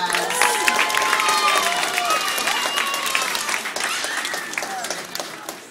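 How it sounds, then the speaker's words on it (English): Audience at an aquarium octopus show applauds steadily, with scattered cheers and voices mixed into the dense clapping throughout. "Let's give him a round of applause."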